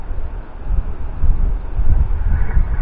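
Wind outdoors on a fishing outing in cold weather buffets the microphone in low, gusty rumbles that rise and fall, loud and close, with no talking.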